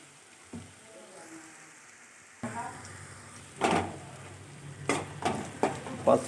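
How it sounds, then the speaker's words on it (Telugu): Egg curry ingredients fry in a pan, a low steady sizzle broken by several louder scraping stirs and utensil clinks toward the end, close and moderately loud. "ఇంకా కాసేపు వేగాలి."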